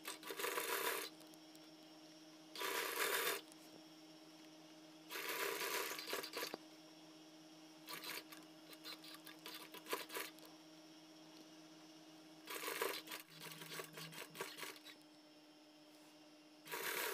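A sewing machine top-stitches around the neckline of a dress in several short, rapid whirring bursts separated by quiet pauses, close up and with no voices.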